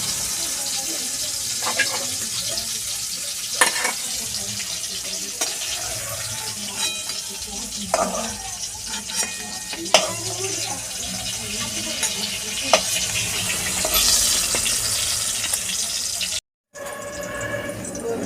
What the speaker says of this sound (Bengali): লাল লাল করে বেগুন ভাজা আমার হয়ে গেছে, আমি তেল থেকে ছেঁকে নিই।